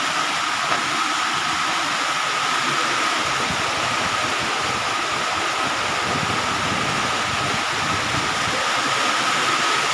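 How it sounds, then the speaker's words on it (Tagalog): Heavy rain pours down steadily, a dense continuous hiss and rush of water with no pauses, loud and close. "Lakas ng ulan guys oh"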